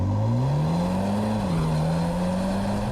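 Steady engine drone from a BMW 135i's cabin sound system, a low humming tone that rises gradually, dips briefly and then holds on as the car cruises, loud and continuous with no voices.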